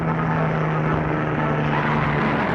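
A loud, steady helicopter rotor and engine drone, close by and unbroken throughout.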